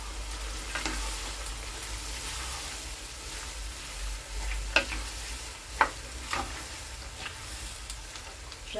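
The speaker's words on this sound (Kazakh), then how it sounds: "Достар, пиязымызды 20 минут қуырдық." About two kilograms of chopped onions fry in hot oil for eggplant caviar, with a steady sizzling hiss and occasional sharp clinks of a utensil stirring the pan.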